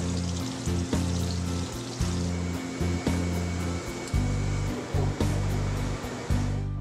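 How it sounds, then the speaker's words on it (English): A flexo platemaking processor for digital nyloflex plates runs steadily, a loud continuous whooshing drone with low mechanical hums that cut in and out in a repeating rhythm, with no voices. "I'm going to feed the plate into the machine and hit the start button."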